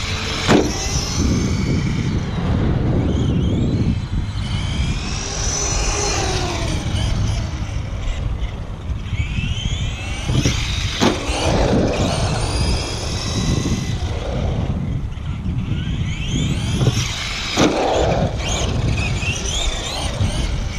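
An electric ARRMA 1/10 Senton 4x4 Mega short course RC truck runs at full throttle off a dirt ramp. Its motor whines loudly and rises and falls in pitch, with wind and rough rolling noise close by.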